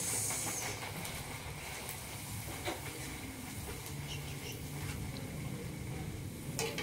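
Rengginang rice crackers frying in hot oil in a wok give a steady, loud sizzling hiss that runs unbroken through the whole stretch, with a few faint clicks and no voices.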